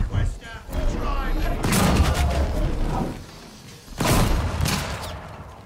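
Dense bursts of video game gunfire in Unknown 9: Awakening, loud and close, with rapid overlapping shots and booms that ease off midway, then surge again.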